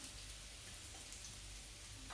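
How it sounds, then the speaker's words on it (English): A handful of curry leaves sizzle in hot oil, giving a steady, dense, crackling hiss that stays constant and fairly quiet from start to finish, with no voices. "Let them sizzle away a bit."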